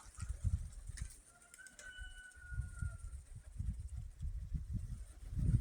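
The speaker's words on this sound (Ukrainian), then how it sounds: "Ось вони мої голубки." Pigeons coo softly in low, repeated throaty pulses, close but quiet, with a faint thin whistle briefly above them and no talk.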